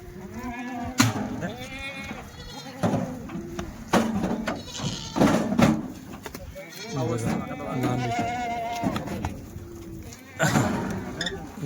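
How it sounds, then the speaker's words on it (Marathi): Kathiyawadi goats, a truckload of about ninety head including pregnant does, bleat repeatedly from inside a goods vehicle, several calls overlapping at close range, with people talking over them throughout. "ही बघा मित्रांनो गाडीमध्ये टोटल 90चं माप आहे. 65 शेळ्या 25 पाठी."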